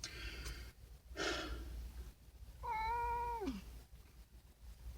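A domestic cat gives one clear, drawn-out meow that falls in pitch, near and fairly quiet, preceded by snorts and breathy noises against low room hum.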